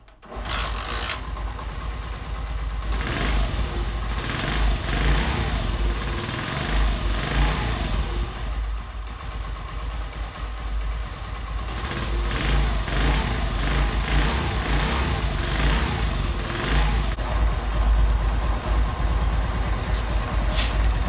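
A Honda 70 motorcycle engine idles steadily and loudly up close after a tappet adjustment, a continuous throbbing rumble with slight rises in revs, no talking.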